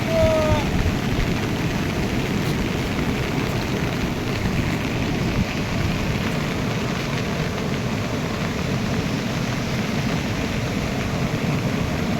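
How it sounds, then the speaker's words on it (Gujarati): Heavy rain pours down in Amreli district, Gujarat, during a downpour that floods a village river: a steady, dense, even hiss of rainfall that stays loud and unbroken throughout. "વરસાદ પડવાના કારણે આજે એક કલાકની અંદર ચારેક ઇંચ વરસાદ પડ્યો છે"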